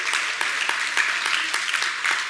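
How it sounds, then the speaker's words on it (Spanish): Congregation applause at a church Mother's Day service, a brisk, moderately loud patter of many hands clapping steadily without a break. "Vamos a darles un fuerte aplauso."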